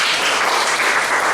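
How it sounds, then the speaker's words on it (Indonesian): Church congregation claps together in a brief, loud, continuous burst of applause during an evening prayer service, filling the room evenly. "Beri tepuk tangan bagi Tuhan."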